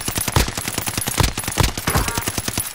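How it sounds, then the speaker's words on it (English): Dense automatic gunfire from a first-person shooter match rattles in fast, loud bursts that run almost continuously, with overlapping shots and no talk. "A lot of shots, whoever that was."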